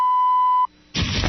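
An answering machine gives a single clear, loud electronic beep that stops abruptly, followed by a short silence and then a burst of noisy line sound.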